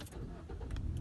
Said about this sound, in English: When you hear the engine start,